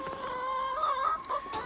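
Chickens in a farm flock of about twenty cluck and call close by, a short burst of overlapping throaty squawks rising to a sharper cry.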